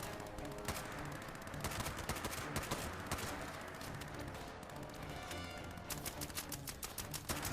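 Rapid gunfire from a roleplay video game battle against the Enclave, with dense, overlapping shots and bursts running continuously at a steady loud level, some sharper volleys standing out near the end.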